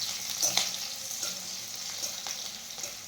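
Green chillies sizzle in hot oil over low heat, a soft, steady frying crackle with a few sharper pops early on, heard alone and fairly quiet.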